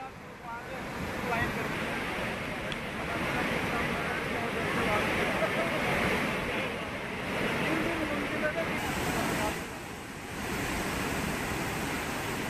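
A muddy, flooded mountain river in Bangapani tehsil, Pithoragarh, swollen after heavy rain, roars as a loud, steady broadband rush of turbulent water with no voices over it.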